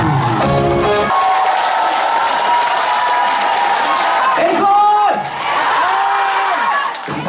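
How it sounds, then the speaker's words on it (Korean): Audience applause and cheering at a year-end evening concert event in Uljin, Korea, a loud crowd burst that gives way to music, with a host's voice over the opening. "박수 한번 주시고 음악 렛츠고!"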